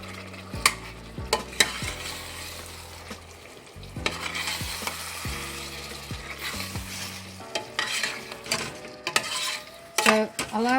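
Drained potatoes stirred in a frying pan for a vegetable curry with aubergine, giving a steady sizzle broken by scraping spoon strokes and knocks against the pan, busier toward the end.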